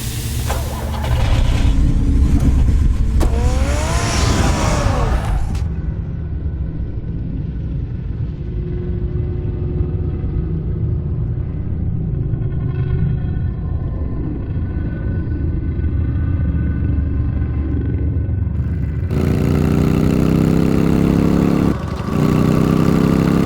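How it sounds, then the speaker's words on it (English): A car engine rumbles at a low idle in the Batman Telltale video game, steady and mid-loud, with other game sounds sweeping in at the start and a louder surge near the end. "Get the car ready, Alfred."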